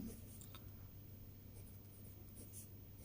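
Quiet, continuous scratch of writing on a board in a class 12 maths lesson, soft strokes over a low steady background hum, no voices.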